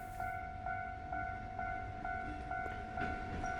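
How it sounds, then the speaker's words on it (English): In a railroad-crossing video game, a train passes with a rhythmic clicking of wheels over rail joints, under steady tonal crossing-signal ringing, moderately faint and without talk. "That's a different train."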